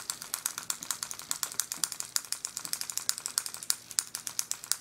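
A screw being turned into a graver handpiece gives a fast, steady series of light metallic clicks, close and fairly faint, ticking evenly throughout like a fine ratchet.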